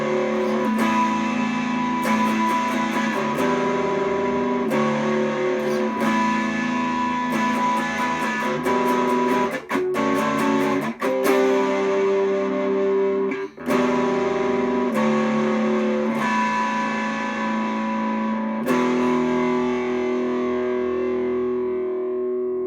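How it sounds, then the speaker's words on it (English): Distorted electric guitar plays the chorus of a metal song, thick sustained power chords with repeated sharp palm-muted chugs, loud and steady, with no talking. "Let me go ahead and kick on distortion and run through how to play the chorus of"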